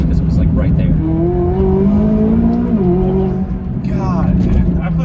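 A McLaren 570 mid-engine supercar accelerates at part throttle, its engine note climbing steadily, dropping briefly at a shift and then pulling again, heard from inside the car with voices faintly present.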